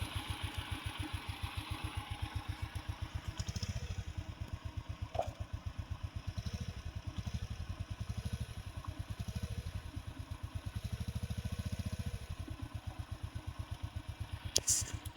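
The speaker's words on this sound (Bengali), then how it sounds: "বাইকটির সাউন্ড অনেক সুন্দর এসেছে, যতটুকু আশা করা গেছিল তার চেয়ে অনেক বেশি সুন্দর হয়েছে।" A Yamaha YBR motorcycle idling after a full engine fitting, a steady close single-cylinder putter with an even rapid pulse and light mechanical clatter, holding a constant rhythm alone with a couple of brief knocks near the end.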